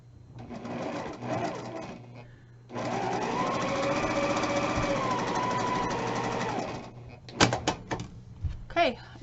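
A sewing machine stitching quilt fabric squares runs in a steady, close, even whir for several seconds, with some soft handling noises and clicks before and after.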